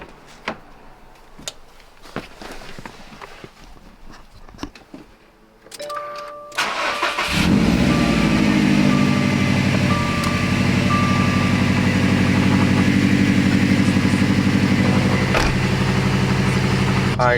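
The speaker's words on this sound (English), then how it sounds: "let's just turn on the car, let it run for a moment," A 2021 Subaru WRX STI fitted with a Grimmspeed air filter cranks and fires up, then settles into a loud, steady idle rumble close by after several quiet seconds of small handling sounds.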